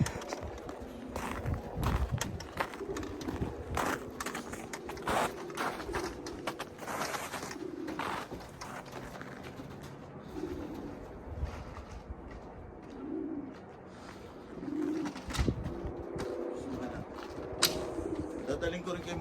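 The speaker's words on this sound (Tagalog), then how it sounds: "Daming kalapati mga boss." Pigeons coo in low, soft bursts among a flock outdoors in snow, with scattered shuffling and clattering around them and people talking intermittently.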